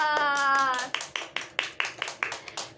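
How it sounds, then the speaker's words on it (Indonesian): Pupils in a classroom clap together for a classmate group in a rhythmic, evenly spaced pattern of claps, following a brief sung or voiced tone at the start. "Kasih tepuk tangan dulu buat kelompok Rafa"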